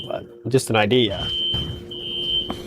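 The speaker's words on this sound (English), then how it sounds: "That's the fire alarm." A fire alarm in a condo building sounds a steady high electronic tone that runs through most of the moment, continuing under a brief burst of nearby speech and a few background knocks.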